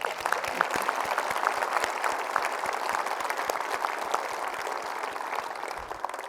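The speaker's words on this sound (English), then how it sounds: "I think that deserves a round of applause." Sustained audience applause at a NASA event celebrating astronauts, dense and steady clapping filling the room throughout at even loudness with no voices over it.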